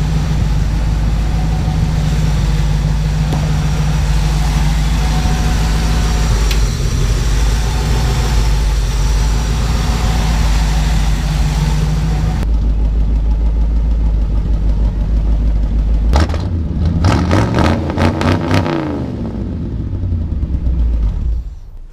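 A 1978 Ford Bronco engine, running on stale bad gas after sitting unused for a long time, idles loud and steady with a rough low rumble, then drops quieter and settles into uneven bursts of revving.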